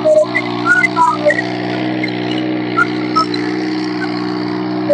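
A tractor engine runs steadily with a low droning hum, rising briefly in bursts, loud and close.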